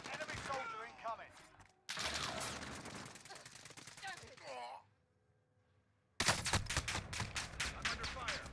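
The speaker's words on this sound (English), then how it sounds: "I'm under fire." Gunfire in the video game Call of Duty: Modern Warfare, dense bursts of rapid automatic fire mixed with game voice callouts, a brief quiet gap, then a loud renewed fusillade.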